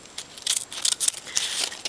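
Scissors snipping through a paper Mobius strip, a quick run of close, crisp cuts with no talking.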